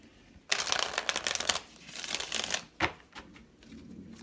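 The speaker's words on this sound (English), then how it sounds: "We're going to shuffle one more time." Tarot deck being shuffled by hand, bursts of riffling, crackling card flutter starting abruptly, with a couple of shorter riffles after a brief pause.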